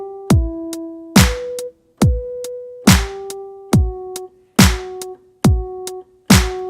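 Piano plays a pattern over a simple drum beat, with punchy kick and snare hits falling in a regular pulse under sustained, evenly repeated notes.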